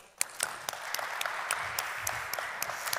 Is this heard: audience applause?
yes